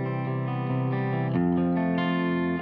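Clean, slightly compressed electric guitar boosted through a Masotti OD Box overdrive pedal, sustained chords ringing out with a slight edge, a chord change midway, played alone up close.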